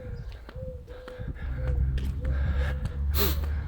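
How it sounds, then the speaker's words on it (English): Heavy, labored breathing of a person walking up a steep hill outdoors, steady gasping breaths repeating throughout with faint footsteps and a bird chirp in the background. "If my breathing gets heavy, which it probably is, it's because the hill's pretty steep."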